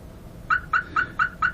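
A Viper car alarm chirps five times in quick, evenly spaced bursts while its remote key fob is being programmed; the short tonal beeps are clear and fairly close, with nothing else heard.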